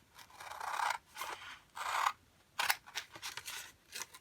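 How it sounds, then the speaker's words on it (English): Scissors snipping through paper while assembling a scrapbook page kit, several distinct cuts in an uneven rhythm, close and clear with no talking. "I'm going to go ahead and cut this into it."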